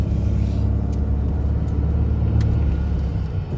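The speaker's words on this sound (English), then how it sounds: "Nice vehicle drives straight. Handles the bumps really well." A 2014 Ford Explorer drives along a road, its steady low engine and tyre rumble continuous and close throughout, with faint rattles over small bumps.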